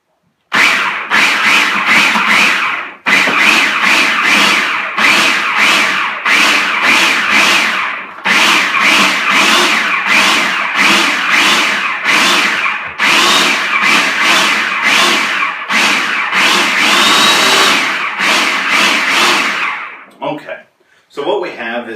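A food processor pulses garlic and salt into a fine paste, loud rough whirring bursts repeated in a long series with brief pauses between them, ending in a few short choppy pulses.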